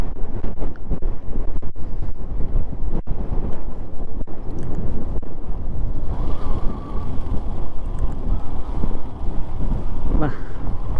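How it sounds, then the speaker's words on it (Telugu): Strong headwind roars over the microphone throughout a motorbike ride on the Manali road between Leh and Sarchu, a constant loud rumbling buffet with voices talking over it. "ఆపోజిట్ గాలి వస్తుంది"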